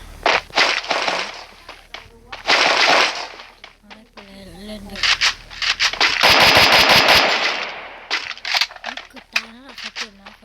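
Video game gunfire, with bursts of machine-gun shots and single cracks scattered throughout and a long rapid burst near the middle, mixed with excited talking.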